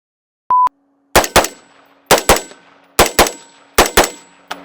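A short electronic beep, then rapid gunfire from a VKTR VK1 AR-15 rifle: four quick pairs of sharp, loud shots spaced about a second apart, each ringing off briefly, with a final faint pop.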